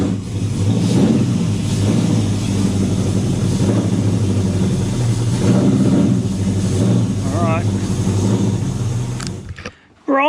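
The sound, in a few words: Ford 351 Cleveland V8 engine started and running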